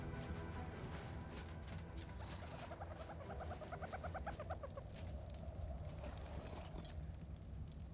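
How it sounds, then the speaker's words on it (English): A dodo clucks in the ARK: Survival Evolved Extinction map, a short run of faint, rhythmic bird-like clucks over a steady game ambience, with no talk. "I swear I just heard a dodo clucking around."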